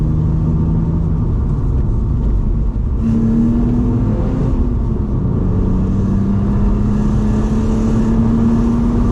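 Naturally aspirated 230-horsepower BMW 330Ci E46 with a manual gearbox, heard from inside as it accelerates: a loud, continuous engine drone whose pitch climbs and drops back with each gear change, alone without talk.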